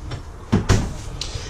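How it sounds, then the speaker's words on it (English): A sliding shower door in a 27-foot Amish-built bunk model travel trailer RV is pulled shut, giving two close, solid thumps in quick succession and then a faint click. "So let's close up the shower door here."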